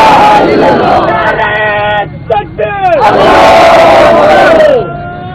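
A large crowd at a rally chants slogans in loud, voiced unison, breaking off briefly in the middle before surging back. Energetic shouted calls echo through the space.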